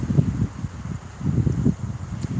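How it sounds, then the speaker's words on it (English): Wind gusts at about 20 miles an hour buffet a microphone outdoors, producing uneven low rumbling bursts that swell and ease in waves. "It's actually like gusting at 20 miles an hour out here."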